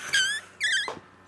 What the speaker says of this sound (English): Hear the squeaking in the window.